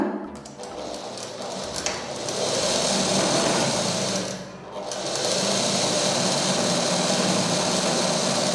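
Sewing machine running a plain seam through two pieces of cloth, a loud close steady whir with a brief dip midway before resuming, continuous and without talk.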